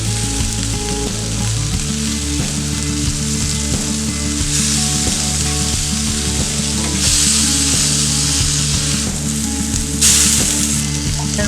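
Shrimp skewers sizzle loudly and steadily on a barbecue grill, a dense unbroken crackle with a few brief hissing flare-ups as they cook.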